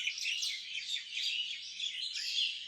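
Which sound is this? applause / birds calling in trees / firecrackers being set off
birds calling in trees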